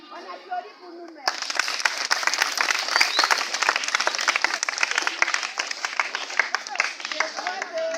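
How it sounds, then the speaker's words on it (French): After a brief moment of talk, a group of young people at a church Advent retreat in Saint Benoît breaks into lively, crackling applause. The hand claps carry on steadily and close by until the end. "On applaudit pour nous-mêmes."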